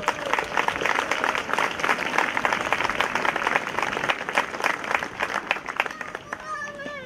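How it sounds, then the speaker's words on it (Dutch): An audience at an open-air marching band event applauds in a dense, steady wash of clapping that lasts several seconds before thinning out, with a few voices calling out near the end. "Nog een keer een applaus daarvoor."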